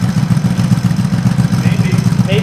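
A Yamaha G1 golf cart engine idles with a steady, low, throbbing rumble that holds even and unbroken from start to finish, heard close up.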